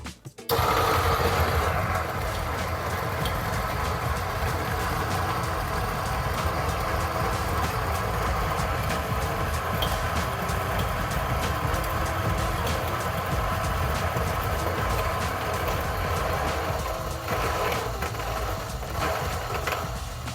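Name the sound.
coffee grinder grinding beans at grind size 12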